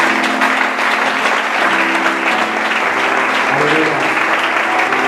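A church congregation claps loudly and continuously, a dense, steady wall of applause filling the room from start to finish, with voices mixed faintly underneath.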